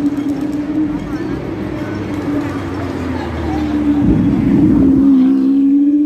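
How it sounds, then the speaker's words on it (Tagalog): A loud car engine drones steadily close by at a fun run in Causeway Bay, Hong Kong, its low hum rising and surging midway, with voices and street noise in the background. "Wow, ingay ng kotse."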